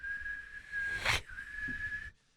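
A voice imitating a boat whistling in the wind: a steady high-pitched whistle, briefly broken by a rush of noise before fading out.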